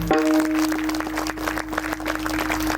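An audience at a kirtan claps together in a dense, steady patter of applause, fairly close, over a sustained tonal drone.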